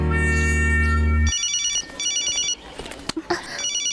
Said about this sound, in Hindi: वो मेरा फोन है।